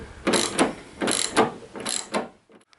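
Ratchet driving a T30 Torx bit to undo load eye fasteners in the floor of a Citroen Relay van, three close bursts of rapid clicking separated by brief pauses.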